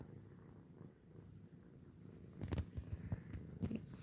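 Bella the cat purring close by, a low soft rumble that swells into louder rhythmic bursts in the second half, with no talking.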